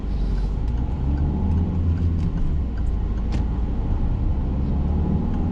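Car pulling away from a stop sign at an intersection during a driving lesson, a steady low engine rumble and road noise close by inside the cabin, continuous with no talk.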